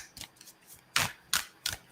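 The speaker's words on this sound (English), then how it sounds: "So I'm gonna go ahead and shuffle" A deck of playing cards being shuffled by hand, heard as several crisp riffling bursts in an uneven rhythm, close and clear, with quiet gaps between them and no talking.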